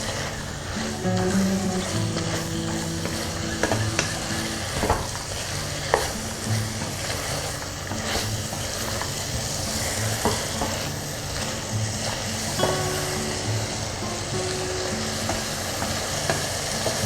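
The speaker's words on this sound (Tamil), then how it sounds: "இப்போது இந்த புதினா தலையை இதில் நான் போட்டுக்கிறேன்." Mint leaves fry for vegetable biryani, a loud continuous sizzle with stirring and scraping in the pan throughout, steady and close, with no voice.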